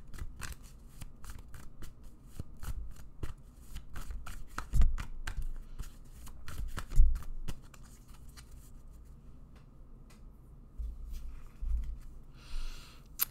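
Tarot cards being shuffled by hand in a quiet room, a series of crisp riffling and flicking bursts close up, with occasional soft thumps as the deck is handled.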